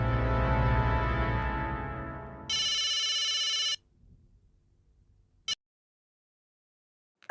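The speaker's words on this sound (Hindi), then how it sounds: "बबीता जी को फोन कर।" A fading tone gives way to one buzzy electronic telephone ring, followed by a couple of sharp clicks and silence.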